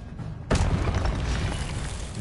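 The Incendio fire spell in Hogwarts Legacy, a sudden loud whooshing burst that cuts in after a quiet half second and then roars and crackles on as a sustained blaze, with no talk over it.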